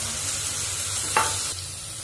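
Ginger and garlic frying in a pan as green chilli and tomato paste go in, a steady close sizzle with a brief louder hiss and stir partway through.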